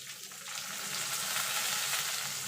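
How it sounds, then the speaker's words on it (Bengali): Chopped onion sizzles and fries in hot oil in a pan, a steady close hiss that swells slightly after the start, with faint stirring, no voices. "এবার পেঁয়াজটাকে একটুখানি ভেজে নেব পুরো ভাজবো না"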